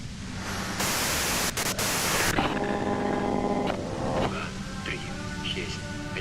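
Dense white-noise static from Disco Elysium bursts in loud and steady, briefly swelling brighter, then settles into a hissing bed under faint tonal sounds for the rest of the stretch.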